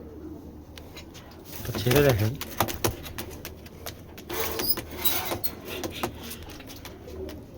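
Giribaj pigeons coo nearby, with a clear throaty coo early on and softer calls later, amid fluttering and rustling while someone talks over them.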